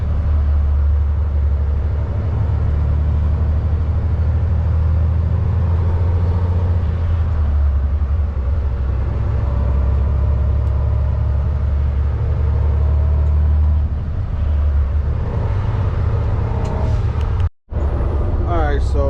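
Steady low rumble of road traffic from inside a truck cab held up in congestion on a drop-and-hook freight run, a constant loud engine and road drone with no break until a brief dropout near the end; talk is likely present, low under the rumble.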